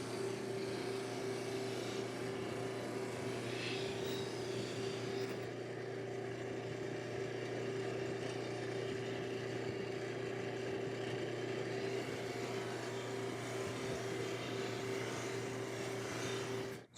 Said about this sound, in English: I did not level this before putting it on the buffing wheel